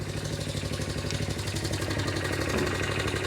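A 1982 Honda XL80S motorcycle engine idles close by with a fast, even single-cylinder putter and a steady mechanical rattle throughout, and no one speaks.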